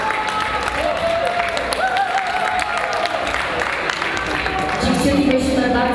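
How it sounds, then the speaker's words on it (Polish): Audience applauds Silesian Opera flash mob artists with sustained, lively clapping and cheers from a sizeable crowd, while a voice speaks over the clapping. "Wielkie brawa!"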